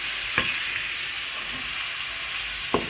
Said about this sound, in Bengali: মাংসটা দিয়ে দিলাম, যেমন পেঁপের সাথে মাংসটা ভাজা করতেছি